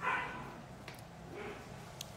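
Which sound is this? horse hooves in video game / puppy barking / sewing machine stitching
puppy barking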